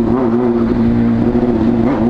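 Honda Hornet motorcycle with a modified exhaust idling and revving loudly up close, a steady deep droning engine note with slight rises in pitch.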